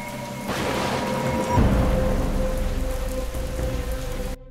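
Steady cartoon-style rain pours down in a dense, continuous hiss of drops on a surface, holding a fairly even loudness for about four seconds before cutting off abruptly.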